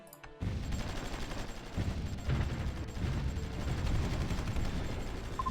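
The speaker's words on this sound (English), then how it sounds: "we can also bring in the artillery close enough to start firing there" Artillery firing in the strategy game Supreme Ruler Ultimate, a dense continuous rumble of overlapping booms and gunfire rolling on without pause, loud and without talk.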